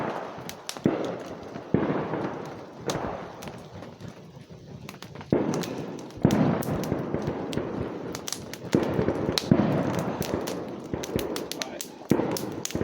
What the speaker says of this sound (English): we managed to keep the fire going. Despite the fireworks.